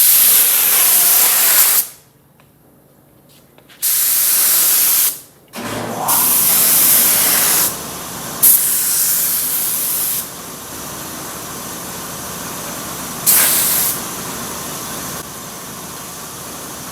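A spray gun lays epoxy primer onto the floor pans of a VW Karmann Ghia under restoration, hissing in loud bursts of several seconds separated by short pauses, close-up, with no talking.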